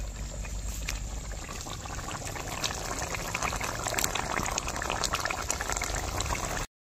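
Chicken posto curry with poppy seed and a little garam masala bubbling in a pan, a steady close simmer of popping, gurgling bubbles that continues evenly throughout without speech.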